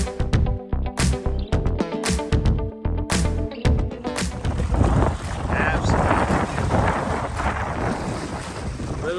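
Strong wind buffeting the microphone on a chilly lakeside dock along the Appalachian Trail, a loud, continuous rushing roar that builds after a few rhythmic thumping sounds at the start.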